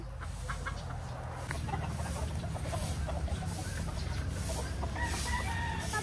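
A Possum Sweater gamefowl rooster clucks in a breeding area, low murmuring clucks repeating close by over a steady background hum, with other fowl faintly calling around it.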